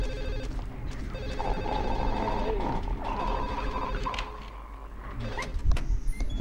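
A telephone rings inside a Silent Hill 4: The Room game scene, its steady electronic trill running through most of the stretch over low ambient drone, with a louder thump near the end.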